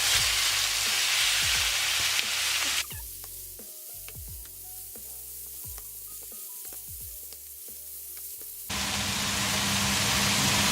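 Extra lean beef frying hard in a pan, a loud, dense, continuous sizzle with crackling spits that drops a little in the middle and surges back strongly near the end.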